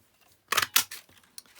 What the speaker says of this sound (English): I'm going to punch this one out